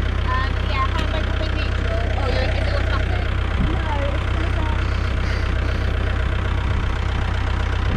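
A tractor engine runs steadily nearby while pulling a car stuck in deep mud at a glamping site. It gives a continuous low, rumbling drone throughout, with voices faintly present.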